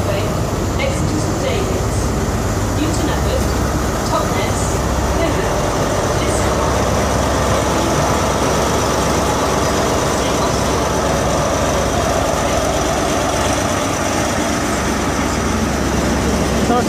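A Class 43 diesel locomotive engine rumbles loudly and steadily, a dense, continuous low roar that fills the whole stretch, with a person's voice partly heard over it.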